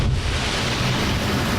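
A large object crashing down onto water in Subnautica, a loud, full, rushing splash and roar that fills the whole moment with no talk over it.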